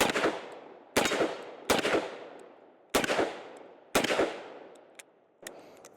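A Korth Ranger .357 Magnum revolver is fired double action, giving about six sharp, loud outdoor shots at uneven intervals, each ringing out with a decaying echo.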